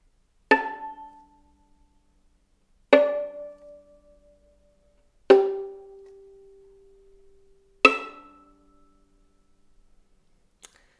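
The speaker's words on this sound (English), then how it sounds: "the opposite of this kind of technique would be a natural harmonic pizzicato, and it sounds like this." Natural harmonic pizzicato plucked on a string instrument: four separate bell-like pings, each ringing out and decaying over about two seconds, with a faint tap at the end, heard alone in a quiet room.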